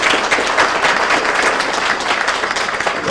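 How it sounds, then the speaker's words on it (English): A crowd at the Dominica Diaspora Summit in Brooklyn, New York breaks into loud, steady applause that holds full strength throughout. "I would ask you again to give him a round of applause once more"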